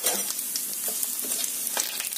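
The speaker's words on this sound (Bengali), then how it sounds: "তেলটা গরম হয়ে গেছে, দিয়ে দেবো একটুখানি জিরে, দিয়ে দিচ্ছি শুকনো লঙ্কা, আর দিয়ে দিচ্ছি এই যে দুটো তেজপাতা।" Cumin seeds, dried chillies and two bay leaves frying in hot oil give a bright, steady sizzle with crackles and a few stirring scrapes, close by and with no talk.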